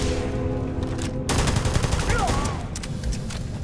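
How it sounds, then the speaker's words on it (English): An 11 millimeter gun fires in the Starfield video game, with a rapid burst of loud, close gunshots after a brief lull and then continued shots mixed with game sound effects. "The 11 millimeter guns are absolutely ridiculous."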